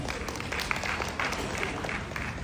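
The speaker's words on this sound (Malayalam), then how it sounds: "ആദ്യം എല്ലാവരും ഒന്ന് കൈയടിക്കണം" Audience applause fills the room at a comedy stage appearance, a steady wash of many hands clapping at moderate level throughout, without pauses.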